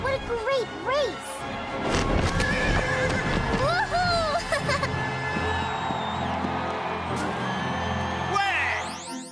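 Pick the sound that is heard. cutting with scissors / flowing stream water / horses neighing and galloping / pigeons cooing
horses neighing and galloping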